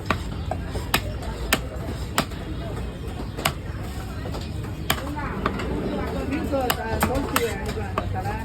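A knife chops through tuna at a Kasimedu fish-cutting stall, giving sharp, regular thwacks on a board that repeat every second or so over steady market background noise and indistinct chatter.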